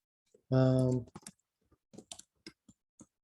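Computer keyboard typing, a loose run of sparse, scattered key clicks following a brief loud tonal burst, fairly quiet and irregular.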